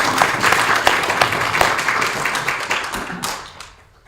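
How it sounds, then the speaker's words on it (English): A class of students bursts into a short round of clapping, dense and fairly close, tapering off and fading out after about three and a half seconds. "Clap, clap, clap, clap."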